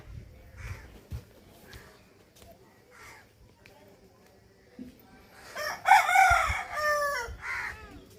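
A rooster crows loudly midway through, with hen clucks and rustling farmyard noise around it; faint voices talk in the background.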